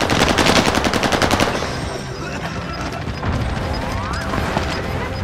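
Rapid automatic gunfire in the Warzone video game opens as a loud, close burst of evenly spaced shots, then gives way to scattered crashes, distant fire and game effects.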